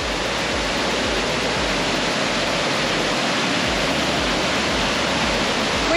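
Fast-flowing river water at a campsite near Mareeba in Far North Queensland, floodwater surging over a submerged bridge, a loud constant rushing roar with no pauses.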